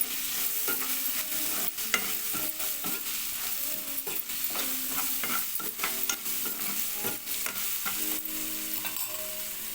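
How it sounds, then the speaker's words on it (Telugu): Ginger-garlic paste and spices frying in a pan while being mixed, a continuous bright sizzle with frequent scraping strokes of a spoon, close and steady throughout, no voices. "అల్లం వెల్లుల్లి పేస్ట్ వేసుకొని ఇవన్నీ వేసుకున్నాక ఒకసారి కలిపేసుకోవాలి"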